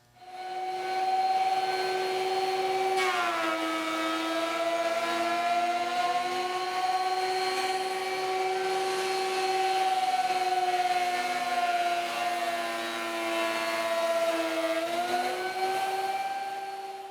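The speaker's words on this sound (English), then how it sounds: "Lock the planer and you're ready to make the first planing pass." A thickness planer makes a planing pass on a wood board, its motor whining loud and steady with a pitch that dips as the board feeds in near the start and again near the end.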